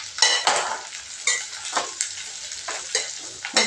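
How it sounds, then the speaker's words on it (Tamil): Vegetables including raw mango and drumstick stir-fried in a pan, with bursts of scraping and sizzling as a spatula stirs them in a repeated irregular rhythm, close and moderately loud, no talk. "காய் நல்லா வதங்கட்டும்."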